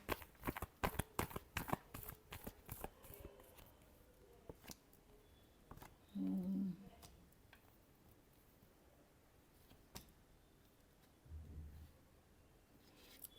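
Tarot cards being shuffled by hand make a quick run of crisp riffling clicks at the start, then sparse soft taps and brushes, all faint and close with no talking.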